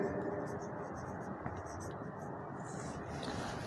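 A pen scratches across paper in close, steady strokes while drawing axis lines, faint and continuous over a low hiss.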